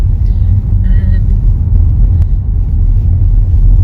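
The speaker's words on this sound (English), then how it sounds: "So we're just driving into Portinscale" Steady close road rumble from a car driving into the village of Portinscale in the Lake District, a continuous low engine and tyre drone that runs throughout.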